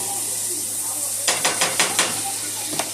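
Fish sizzling in a pan with a steady hiss, broken by a quick series of five sharp stirring scrapes and clinks, then one more later, close and clear.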